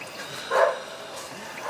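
A dog barks once in a short burst, moderately close, over a quiet background with faint voices.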